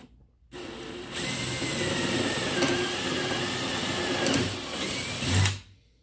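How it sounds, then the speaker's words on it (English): A power drill whirs steadily for several seconds at close range, drilling pilot holes into wood, its pitch shifting slightly as it bores, then winds down and stops. "we definitely need to pre-drill."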